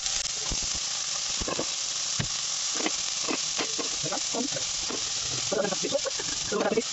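Chopped onion hits hot oil in a pan for relyenong bangus, giving a steady loud close sizzle with crackling pops and occasional stirring throughout.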